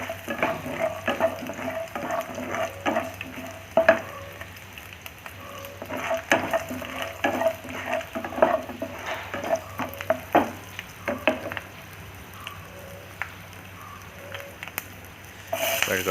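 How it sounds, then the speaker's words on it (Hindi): Peanuts fry lightly in a pan for a Hyderabadi brinjal masala, a soft steady sizzle with clinks and scrapes of stirring, punctuated by sharper utensil knocks near the pan. "अभी ऐड करते हैं मूंगफली। मूंगफली को भी थोड़ा, इसको भी थोड़ा हल्का से फ्राई कर देंगे।"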